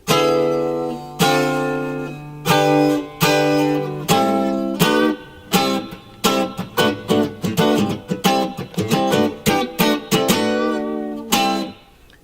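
A cheap copy of a Rickenbacker 325 electric guitar on middle and bridge pickups plays clean strummed chords, first slow and ringing, then quicker choppy strums and picked notes, close and clear.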